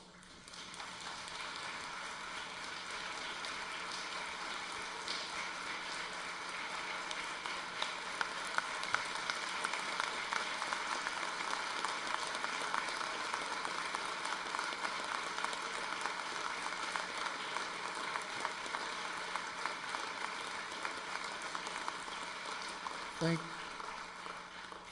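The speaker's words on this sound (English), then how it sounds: "that applause is for all of us, not just for my statement" Sustained applause from an audience in the Illinois legislative chamber, a dense, steady wash of clapping that holds for about twenty-five seconds with no break.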